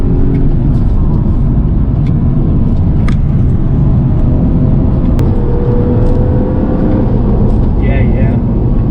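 A stage 1 tuned BMW 335i engine pulls hard from the cabin, a loud continuous rumble rising through the gears with brief shifts, while the driver talks over it.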